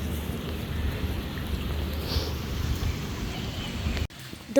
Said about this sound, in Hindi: बहुत प्यारी बारिश हो रही है।